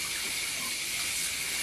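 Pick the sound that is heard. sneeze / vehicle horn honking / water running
water running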